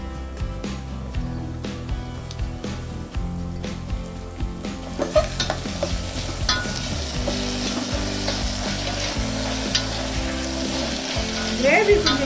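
Tomatoes fry and sizzle in a pan for a sprouts thokku, a crackling hiss rising as they go in, with scraping stirs of a spoon against the pan.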